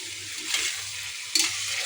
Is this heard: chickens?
no